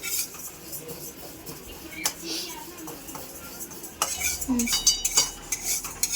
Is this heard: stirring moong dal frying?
yes